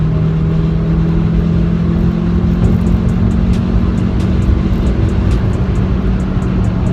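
A 300bhp Audi S1 pulls hard in fifth gear, a loud, sustained engine and road roar that holds steady and dense throughout, heard from inside the car.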